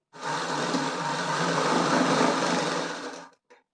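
Sewing machine running continuously while stitching the top of a Punjabi dress, a steady close whirring motor drone for about three seconds that stops abruptly, followed by a brief faint clack.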